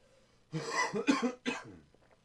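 A quick run of three raspy coughs, close and fairly quiet, fading into breathing.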